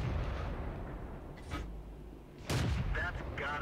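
Tank guns fire in the World of Tanks video game: muffled booms with a sharp, heavy blast near the middle, set against a low rumbling battle backdrop.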